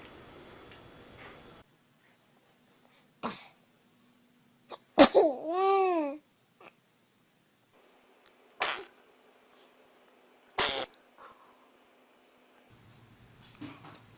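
Several short, sharp baby sneezes burst out one at a time among quiet gaps, with babbling, a cough-like huff and soft gurgles between them, close and fairly loud.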